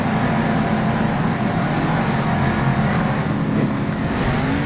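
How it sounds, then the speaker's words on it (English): A Monster Jam monster truck, El Toro Loco Ice, races on an icy track in its final lap, its engine a loud, continuous roar with steady low rumble throughout, no pauses. "We are on our final lap with El Toro Loco Ice in first place with Dragon hot on his heels."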